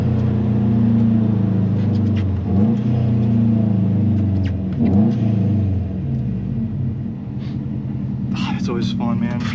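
A Stage 2 Subaru WRX engine drones loud and steady while racing a K4 car, its pitch dipping and climbing through gear changes, with a closing burst of higher-pitched sound near the end.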